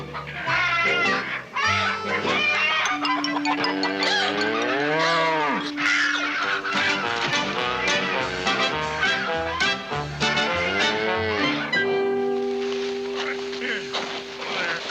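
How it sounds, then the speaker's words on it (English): A cow mooing loudly and close in a drawn-out low call with rising and falling pitch, heard under people talking in a rural farm setting. "You bring a cow."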